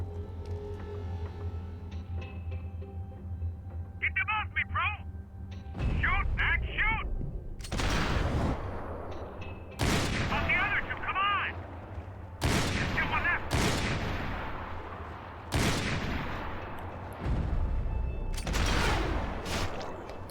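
Sniper rifle shots in the shooter game Max Payne 3, a series of heavy single cracks with echoing tails spaced a couple of seconds apart, mixed with other gunfire and game sounds while voices talk over the action.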